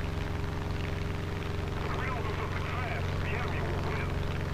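Propeller airplane engine in the War Thunder Mobile flight mode, a steady low droning hum with layered harmonics that holds constant throughout, loud and continuous with faint game effects above it.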